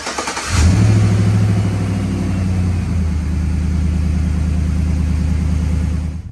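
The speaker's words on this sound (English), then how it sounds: "crank the truck up, go for a drive" A regular cab pickup truck running on E85 cranks briefly and catches, then settles into a deep, throbbing engine note with a rev around mid-clip, loud and close with no talking.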